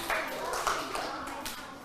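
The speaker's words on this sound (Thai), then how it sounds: "ปรบมือให้กับเด็กหญิงลิลลี่หน่อยค่ะ" Brief clapping in a classroom for a young girl, a short burst of hands with a few sharper slaps, moderately close and slightly uneven.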